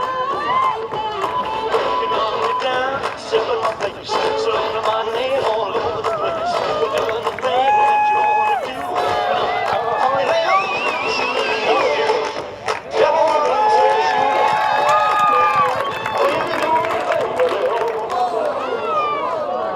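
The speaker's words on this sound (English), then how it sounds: "Give it a big round of applause." A rodeo crowd at the Canoe Mountain Rodeo in Valemount, BC cheers and applauds over a loud, steady crowd din, while an announcer keeps talking over the PA throughout.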